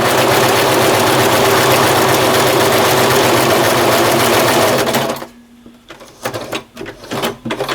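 A sewing machine stitches a patch onto loose fabric, a loud, close, rapid mechanical whirring that runs steadily for about five seconds then stops, followed by a few quieter clicks and handling sounds.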